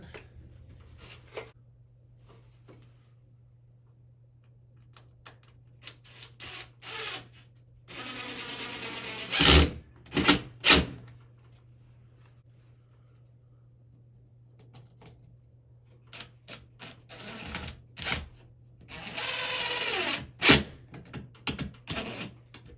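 A trim piece being screwed to a wall, with short bursts of a power screwdriver whirring and a few sharp knocks between quiet pauses, close by over a low steady hum.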